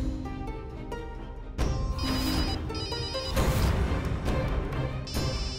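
A telephone rings indoors in repeated loud bursts, its bell-like tones cutting in and out over a busy dramatic background.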